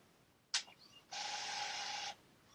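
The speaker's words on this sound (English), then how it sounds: "There goes the printer." An office printer runs near and loud for about a second, with a sharp paper-feed click just before the steady whirring print pass, then stops; no talking.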